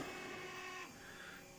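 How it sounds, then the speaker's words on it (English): A 3D printer prints a bobbin with steady tonal stepper-motor whines that shift pitch as the head changes moves, a continuous close mechanical drone. "I'm just printing the bobbin right now, actually, on the 3D printer"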